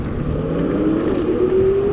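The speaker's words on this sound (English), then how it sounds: "I'm trying to wide open throttle it, see if anything happens." An Onyx RCR electric bike at full throttle, its motor giving a steady whirring hum with a tone that rises gradually as it speeds up, loud and close with wind noise underneath.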